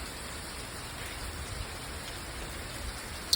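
Rain falling steadily beyond a front porch, a soft even hiss with one small tap near the end.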